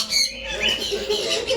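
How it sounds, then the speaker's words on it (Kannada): Birds in a bird park squawk and chatter in short, harsh bursts, fairly close and fairly loud, over a busy low background. "ನನಗಂತೂ ಇಲ್ಲಿ ಪಕ್ಷಿಗಳು ಮೇಲೆ ಕೆಳಗಡೆ ಎಲ್ಲ ಹಾರಾಡ್ತಾ ಇರ್ತವೆ"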